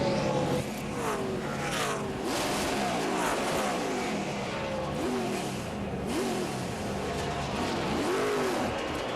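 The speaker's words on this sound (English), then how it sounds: "Patrick had a tough time getting the car in gear, and I'm not sure he's in first gear now, DW." A NASCAR race car at the 2010 Weis Markets 125 pulls off pit road with transmission trouble, its engine revving and rising in pitch repeatedly as gears struggle, loud and continuous amid surrounding track noise.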